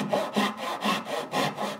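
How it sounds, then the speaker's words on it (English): A small dovetail saw cuts into wood on a workbench, in four or five even push-pull strokes with a rhythmic rasping that rises and falls. The sound is close and clear, with no talking. "Get your dovetail saw, whatever one you want to use. A small saw works best."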